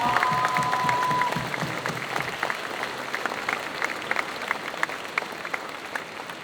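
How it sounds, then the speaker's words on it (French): Audience at a cosplay convention applauding a cosplayer, a steady burst of clapping with a whistle at the start, fading gradually in intensity over several seconds. "je vous demande d'applaudir comme il se doit Cinderis"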